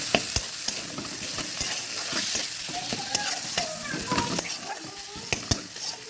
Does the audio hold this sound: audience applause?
no